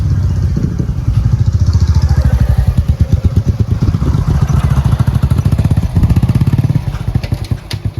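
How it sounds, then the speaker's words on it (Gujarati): A motorcycle engine thumps loudly and close in a steady fast rhythmic putter, rising slightly as the bike pulls up, then easing near the end. "આ કોનું બાઈક લઈને આવ્યો"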